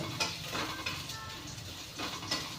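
Garlic with cumin seeds fries in hot oil in a pan, giving a soft steady sizzle with a few light clinks of a utensil against the pan, fairly faint and heard alone.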